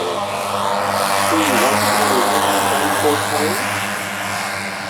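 A propeller-driven model warbird aircraft flies at an air show over Michigan, its engine drone droning steadily and shifting in pitch as it passes, loud and fairly near, with a voice talking over it.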